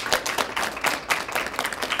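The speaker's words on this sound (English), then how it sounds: "If we can please give him a round of applause" Applause for a school superintendent at a culinary arts education event, a steady broadband patter of many hands clapping for two seconds with no voices.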